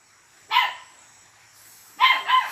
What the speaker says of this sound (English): Can't control no wild puppy.